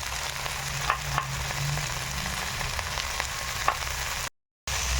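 Chopped onions and green chilies frying in a pan on a home kitchen stove, a continuous close sizzle with scattered small pops and crackles, steady throughout with a brief dropout near the end.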